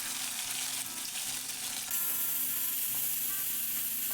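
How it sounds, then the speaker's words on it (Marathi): Curry leaves, cumin, mustard seeds and tomato frying in hot oil for an Indian festival dish, a steady close sizzle with crackling that briefly intensifies partway through. "कढीपत्ता छान कडकडून त्याच्यात मी जिरे टाकलं. थोडी मोहरी टाकायची. त्याच्यात थोडासा टोमॅटो घातला."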